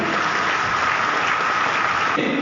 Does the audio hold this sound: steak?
no